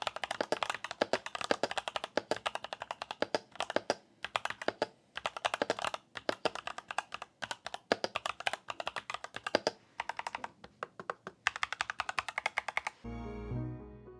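Rapid, clacky keystrokes on an EPOMAKER TH80 Pro mechanical keyboard, irregular bursts of typing with brief pauses, close and crisp; ends with a short low tone.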